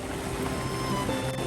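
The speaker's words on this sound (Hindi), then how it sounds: "ये आवाज़ और जिस तरह से पानी देख रहे आप ये गिर रहा है" Falling water of a cold, snowmelt-fed mountain stream near Manali rushes in a steady, broadband wash, loud and continuous throughout with no voices over it.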